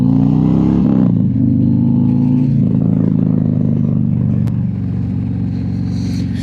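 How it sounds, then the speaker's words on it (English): A motorcycle engine runs steadily at close range on a fall ride, a loud, even low rumble that holds for several seconds with a slight dip partway through. "I'm just taking the bike out, getting the fluids moved around."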